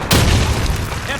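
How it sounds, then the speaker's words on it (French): A grenade blast in a World War II video game, a loud close boom with a sudden onset and a rumbling tail, while shouting voices carry on underneath. "Je lance une grenade!"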